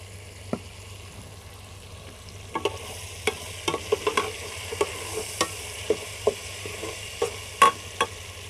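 Green chillies frying in a pan, a soft steady sizzle beneath a run of sharp clinks and scrapes from a stirring utensil that grow more frequent after the first few seconds, with no talking.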